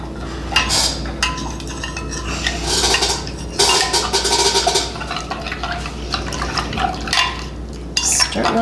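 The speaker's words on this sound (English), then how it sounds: "Stir it real good." A utensil stirs warm milk mixed with inulin in a container for homemade yogurt, with clinking and scraping against the sides in uneven bursts and small liquid sloshes, no talking.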